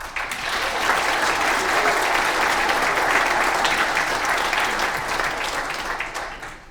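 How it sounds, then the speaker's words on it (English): An audience claps at an independent candidate's campaign launch in Limerick, a dense, steady burst of applause lasting several seconds that swells, holds and then tapers off. "Can I just ask you guys to give them all a round of applause?"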